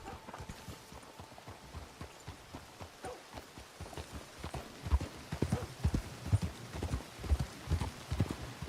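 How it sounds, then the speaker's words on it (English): Horse hooves clip-clop steadily on the ground in Red Dead Redemption 2, a rhythmic run of close hoofbeats that grows louder and firmer toward the end, with a second horse following along. "My other horse is following me, too."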